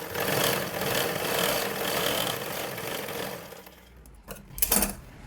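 A sewing machine stitches along the edge of a blouse lining in one steady, close, whirring run that slows near the end, followed by a few brief handling clatters.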